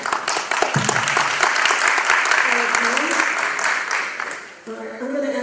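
Audience applause at a League of Women Voters primary candidates forum in Plainfield, dense clapping close by that fades toward the end, with a voice briefly talking over it.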